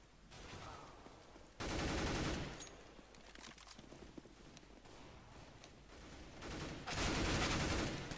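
Bursts of automatic gunfire from a CS:GO match, heavy volleys around the second and seventh seconds with scattered shots and game noise between, loud and close, no talking.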